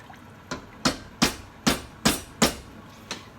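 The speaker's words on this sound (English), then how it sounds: "Then give this a stir around." A spoon knocks against a pot of pork with orange and star anise, about seven rhythmic scraping clunks, close and moderately loud, with no talk.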